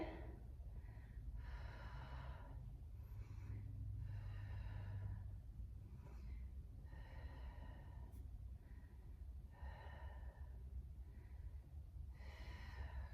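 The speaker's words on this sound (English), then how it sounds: "Nice deep breaths. Exhale." Slow, deep breathing during a yoga exercise, with several long inhale and exhale cycles spaced a few seconds apart over a steady low hum, close and fairly soft, with no talking.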